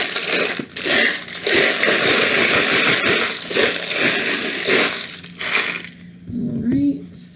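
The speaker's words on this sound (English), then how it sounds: "So I'm going to shuffle the charms." Small metal charms shuffled and rattled together for a charm reading, loud close clinking and scraping in uneven bursts, with a short pause and a quieter stretch at the end.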